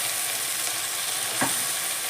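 Mint leaves frying in hot oil for mint chutney give a steady, dense sizzle with no break, and one soft stir or scrape rises briefly partway through.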